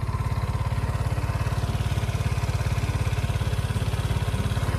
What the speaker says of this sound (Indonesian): Nah kita coba nyalain starter ya. Nah dia nyala teman-teman.